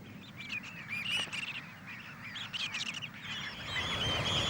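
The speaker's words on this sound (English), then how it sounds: "One shot we particularly wanted was of a huge flock wheeling above my head" A huge flock of roosting birds, tens of thousands strong, wheeling overhead: a constant faint chorus of overlapping calls and chatter, with the whoosh of wings and ambient noise underneath, and no talking.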